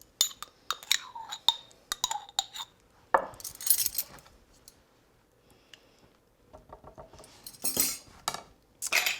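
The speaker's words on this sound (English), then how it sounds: "I'm gonna pull out a clean measuring spoon for the Dijon." A metal measuring spoon and cutlery clink in a kitchen, with quick bright taps and scrapes in small bursts, a brief pause, then more clattering, all close and fairly quiet.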